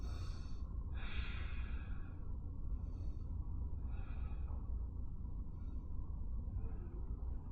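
Slow deep breaths during a children's yoga breathing exercise, several drawn-out inhales and exhales repeating at a calm pace, soft and close over a steady low background rumble.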